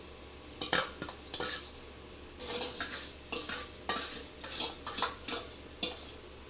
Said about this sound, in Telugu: ఈ సేమియాను వేసేసుకొని దీన్ని ఇలా మిక్స్ చేయాలి.